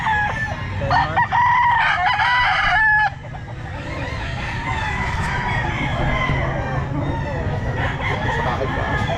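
Roosters crow and chickens cluck at a busy Sunday pet market, several loud calls overlapping in the first three seconds before a denser crowd of birds keeps calling under steady background chatter and market noise.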